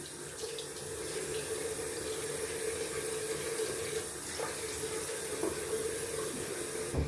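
Tap water runs steadily into a sink, a continuous close splashing hiss with occasional small clinks.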